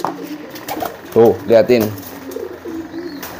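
Pigeons coo during courtship, with a few close, throaty bursts in the middle of the clip, while someone talks quietly around them.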